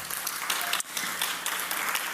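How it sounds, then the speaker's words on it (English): An awards ceremony audience claps in steady, even applause at moderate distance, with a brief dip partway through before the clapping resumes. "Ruchira Gupta, please give her a round of applause."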